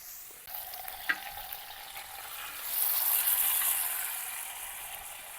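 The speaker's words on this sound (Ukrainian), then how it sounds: "Наша задача його зараз обсмажити з усіх сторін до скоринки." A whole piece of meat sizzles and crackles steadily in a hot pan, searing to a crust, a soft continuous hiss that grows a little louder midway.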